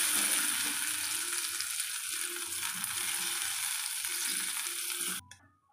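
Prawns frying in a pan, a steady close hiss and crackle of oil that carries on evenly and then cuts off abruptly near the end.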